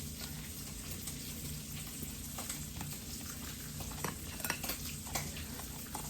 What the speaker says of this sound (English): On my stove top, I've got my bacon cooking off, my beef peppered bacon cooking off.